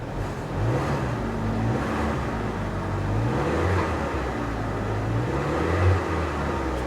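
A used car engine idling steadily on a Copart auction lot after sitting unused for about a year, a low continuous hum close by with a slight swell near the end.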